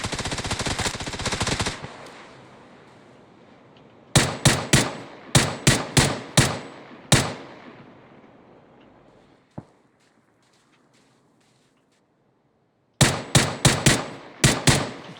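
Automatic gunfire in the battle royale game PUBG, loud close bursts of rapid shots in several groups separated by quieter gaps, with a single faint shot in between.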